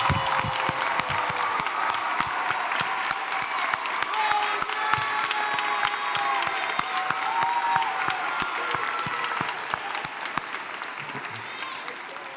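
A commencement audience at Lamar University's College of Arts and Sciences applauds the candidates' parents, sustained dense clapping from a large indoor crowd lasting the whole stretch with faint cheers and voices underneath, tapering slightly near the end.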